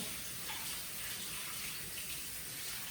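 Cold tap water runs steadily over 400 g of cooked peas in a steamer basket, a loud, even rushing splash close by with no talking.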